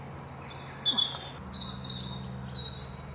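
Small birds chirp and tweet at a feeder in Rufford Country Park, with thin high calls scattered over a low hum.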